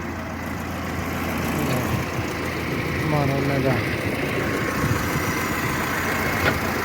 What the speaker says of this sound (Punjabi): ਲਓ ਜੀ ਹੋ ਗਏ ਸਟਾਰਟ ਟਰੈਕਟਰ ਕਰਤਾ ਟਰੈਕਟਰ ਬਾਈ ਨੇ ਸਟਾਰਟ